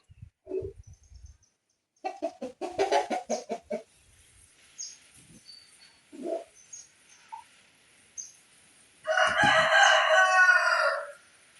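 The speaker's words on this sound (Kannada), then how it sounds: "ಈ ಕೋಳಿಗಳೆಲ್ಲ ಎಂತಕ್ಕೆ ಈ ಥರ ಕಂಗಾಲ ಕೂಗ್ತಾ ಇದೆ ಗೊತ್ತಾ?" Chickens clucking in short bursts, then a loud rooster crow near the end, with sparse quieter calls in between.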